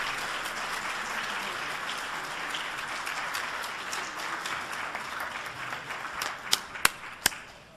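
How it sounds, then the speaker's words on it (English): Audience applause closing a panel session at a law, religion and international affairs anniversary event, a steady broad wash of many hands clapping at moderate distance, ending with a few sharp louder claps near the end. "They deserve another round of applause, I think."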